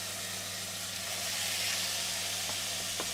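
Food searing in a hot pan while Sri Lankan curry and roti are cooked, a steady close hiss and sizzle with a few small clinks near the end.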